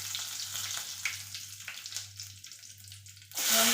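Mustard seeds and curry leaves fry in hot oil, a close, steady sizzle with small crackling pops that surges sharply louder near the end as something more is added.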